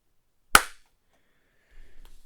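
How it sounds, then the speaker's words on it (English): A single sharp hand clap in a quiet room, loud and close, followed by a short silence and then faint low rumble. "When I clap."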